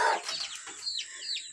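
Two turkeys kept on a small farm give quick warbling gobbles, a rapid burst near the start followed by a couple of shorter trilling calls, close and clear with no talking.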